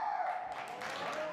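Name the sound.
spectators applauding at Deaflympics taekwondo event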